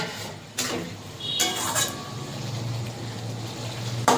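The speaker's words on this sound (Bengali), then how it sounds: "ঢাকনাটা তুলে একটুখানি তরকারি নেড়ে দেবো।" A pot lid lifted off a curry of katla fish and turnip, then stirred, giving a couple of metallic clanks, scraping and a sustained low simmering hum, with a final clink at the end.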